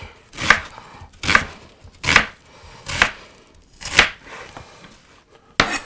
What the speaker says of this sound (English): I'm going to start chopping these.